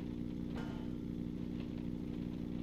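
A player-built vehicle in Scrap Mechanic hums with a steady, buzzy engine drone held at nearly full throttle, continuous and even throughout with no pauses.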